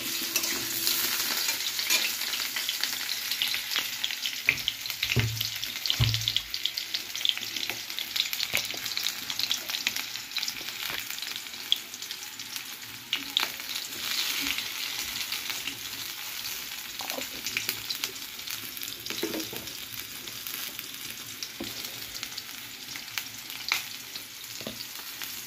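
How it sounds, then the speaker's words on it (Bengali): Potatoes frying in a pan on a rainy day, a steady soft sizzle with occasional stirring clinks and scrapes, close and continuous with no talking. "এই দেখো আলুগুলো ভাজা হয়ে গেছে"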